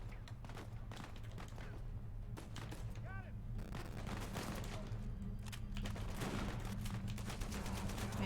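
Gunfire in the video game Uncharted 4, dense rapid bursts of shots and thumping impacts sounding continuously over a game soundtrack, with a voice talking now and then.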